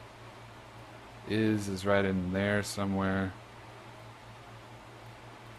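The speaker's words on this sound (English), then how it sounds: "All I hear is the air conditioner right now, buzzing in my ears." An air conditioner buzzes with a low, constant hum filling the room, heard alone before and after a short stretch of someone speaking over it.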